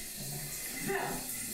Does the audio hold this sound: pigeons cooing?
no